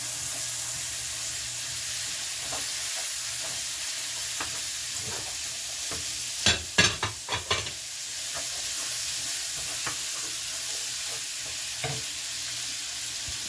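Ground beef and egg sizzle steadily in a frying pan, with a quick cluster of scraping stirs midway and a few scattered utensil taps nearby.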